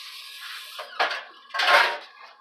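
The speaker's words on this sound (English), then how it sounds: "And then you want to whisk it all up." A whisk knocks and scrapes around a bowl of brownie batter in a few quick bursts, bright clattering strokes separated by short pauses, close and fairly loud.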